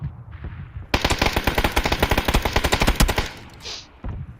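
A rapid burst of automatic gunfire in PUBG on the Vikendi map, a dense string of sharp shots lasting about two seconds, loud and close, followed by quieter game sounds.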